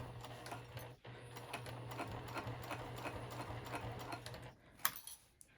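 A sewing machine stitching a vinyl zipper pouch hums steadily with a fast rhythmic needle patter at close range, then slows and stops with a couple of clicks.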